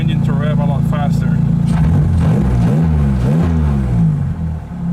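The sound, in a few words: drift car engine revving quickly with Fidanza aluminum flywheel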